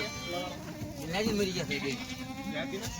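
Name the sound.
goat bleating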